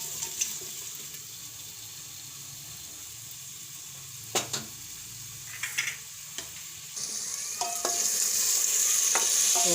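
Potatoes and onions fry and sizzle in a pressure cooker, a steady hiss with a few sharp clinks of a spoon stirring, and the sizzle swells louder toward the end.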